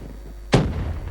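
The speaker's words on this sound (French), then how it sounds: "Ah quel enculé, il m'a lancé une grenade." A grenade blast in Call of Duty Black Ops 2 Zombies gameplay: one sharp, loud explosive thud that cuts in abruptly, followed by a rumbling, noisy tail.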